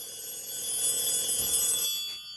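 A telephone rings indoors, a thin, steady electronic trill held at moderate volume for about two seconds before cutting off abruptly, with no talking over it.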